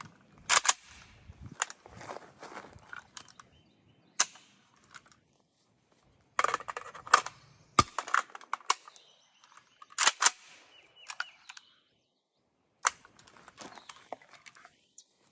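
An AK rifle is reloaded using the overhand method, producing sharp metallic clacks and rattles of the magazine and bolt in short bursts separated by quiet pauses.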